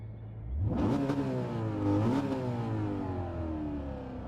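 A 2016 Shelby GT350R engine in a racing video game revs up hard from idle, rising in pitch, dips briefly on a shift, then climbs again and holds a steady high drone.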